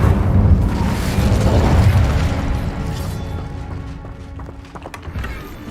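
The Incendio fire spell in Hogwarts Legacy goes off as a loud, roaring fiery blast. Its rumbling burst swells at once, then slowly fades into a crackling tail over several seconds.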